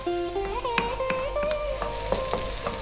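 Finely chopped onions frying over medium heat for a Rajasthani laal maas lamb curry, a steady close sizzle with light stirring, under a voice that speaks throughout.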